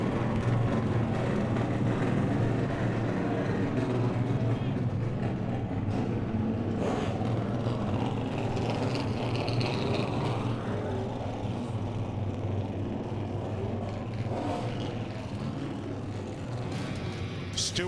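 Stock car engines firing up at the Richmond short track for a Denny Hamlin Short Track Showdown race, a steady low rumble of many motors with rising revs, heard at a distance under crowd noise and a voice.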